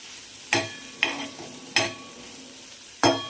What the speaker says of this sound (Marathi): आता पुन्हा हे छान परतून घेते मी मसाल्यामध्ये.